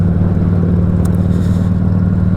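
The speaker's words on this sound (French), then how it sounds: "Il va être content d'entendre sa moto en étant à la place de la personne derrière lui." A motorcycle engine drones loud and close with a steady, throbbing low rumble that holds for the whole stretch and barely rises or falls, with no voices over it.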